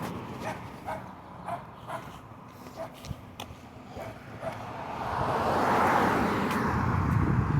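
A dog barking and yipping in short irregular bursts close by, followed by a rising noisy rush like a passing car toward the end.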